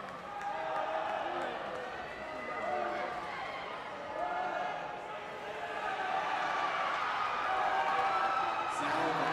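Spectators at a Bryant versus Boston University swimming race keep up a steady, roaring crowd noise that swells gradually louder across the stretch, with a commentator talking over it.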